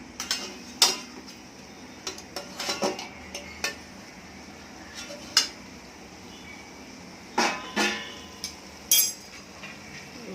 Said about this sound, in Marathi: हे झाकण ठेवूया